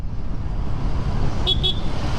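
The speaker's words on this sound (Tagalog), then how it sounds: "May busina tayo mga kaibigan." Two short car horn honks in quick succession, fairly distinct, over a steady rumble of traffic and engine noise.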